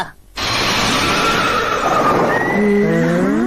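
A cartoon horse neighs in a long, loud whinny that starts abruptly after a brief hush and trails off into quavering, wavering squeals at the end.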